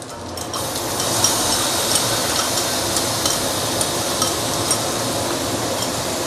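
Rice noodles already coated in egg for char kuay teow sizzle steadily in a hot pan as broth is added, a loud, continuous frying hiss with faint scraping of stirring underneath.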